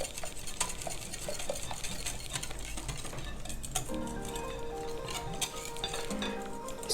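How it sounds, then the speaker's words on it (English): Pasta carbonara sauce stirred in a pan, with soft repeated scraping and light clinks of a utensil against the pan, moderately quiet. "And just keep stirring, keep stirring."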